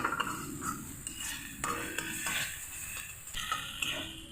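Spice paste of mustard and poppy seed for pabda fish jhal being stirred and sautéed in a pan, a steady run of scraping spatula strokes and soft clinks over a low sizzle, close and moderately loud.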